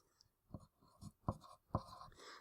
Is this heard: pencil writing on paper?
yes